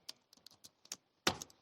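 Quick keystrokes on a computer keyboard during Python pandas coding, a run of light separate taps followed by a louder cluster of clacks near the end, close and clear with no talking.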